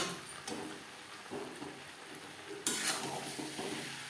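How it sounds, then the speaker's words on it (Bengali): Fish roe and potatoes being stirred in a frying pan over a high gas flame: a steady, soft sizzle broken by repeated scraping strokes of a utensil, with one stronger scrape toward the end and no voices. "আলুর সাথে মাছের ডিম বেশ ভালো করে মিক্সড করে দেব"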